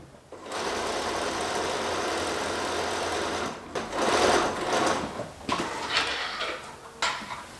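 Sewing machine stitching a shirt cuff, a steady close whirring run for about three seconds, then a brief pause and several shorter bursts with clicks and handling noise between them.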